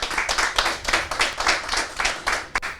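Audience clapping on a French television make-up competition show, a brisk scattered burst of many hands beating in uneven pulses, fairly close and loud, with no talk over it.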